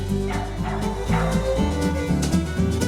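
Dogs bark and yip repeatedly at a daily dog show alongside a display of Danish-designed dog products and toys, with several yaps overlapping against a dense, busy background.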